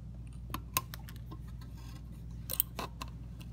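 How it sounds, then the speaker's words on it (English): Flush cutters snip the leads of a newly soldered electrolytic capacitor on a synthesizer power supply circuit board, giving a few sharp, quiet clicks over a low steady hum. "Trim the leads."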